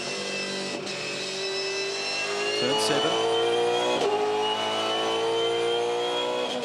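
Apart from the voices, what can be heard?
V8 Supercars race cars accelerating at Darwin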